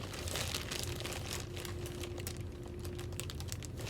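A plastic bag crinkles and rustles continuously while a crochet-of-the-month club package is unboxed, a busy close-up crackle of many small crisp snaps with a faint steady hum underneath.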